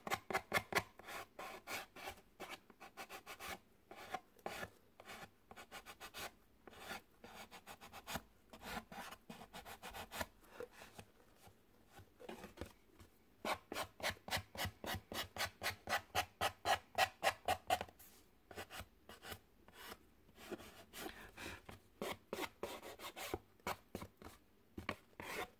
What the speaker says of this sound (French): on vient limer les bords pour faire quelque chose de propre